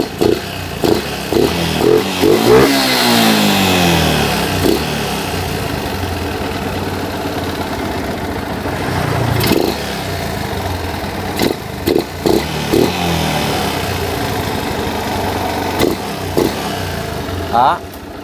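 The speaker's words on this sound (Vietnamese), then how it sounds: "Mình nổ máy cho các bạn nghe ha." A Yamaha Exciter 135cc motorcycle engine starts and runs at idle with occasional revs, close and loud, its mechanical clatter steady throughout, with a voice talking over it at times.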